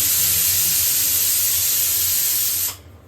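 A pressure cooker on a home kitchen stove vents steam in a loud, sustained hiss that runs for about two and a half seconds and then cuts off sharply.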